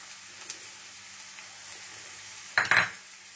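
Chopped onions fry in hot oil in a pan for a chicken curry, a soft sizzle under a quiet background, with two brief louder scraping stirs near the end.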